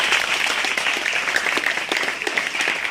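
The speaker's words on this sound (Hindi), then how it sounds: "उनके लिए ताली बजाएगा।" Sustained applause from a crowd of students and staff at a school Children's Day celebration in an Indian inter college, steady broadband clapping filling the whole stretch at moderate distance.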